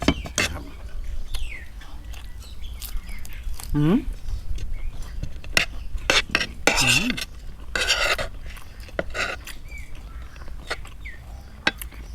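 Pork with chili and salt is stir-fried in a pan, with intermittent scraping and clinking of a utensil against the pan and a few sharp taps, under quiet talk.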